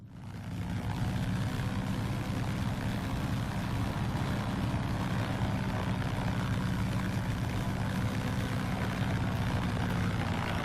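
A de Havilland Beaver's radial propeller engine drones steadily in the X-Plane 11 flight simulator. The hum is loud, close and unbroken, with no voices over it.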